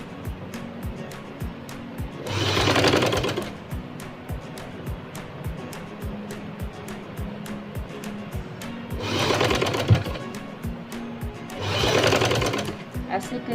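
A sewing machine set to a long stitch length runs through a round neckline in three short bursts of stitching. The bursts are separated by quieter stretches, with talk running throughout.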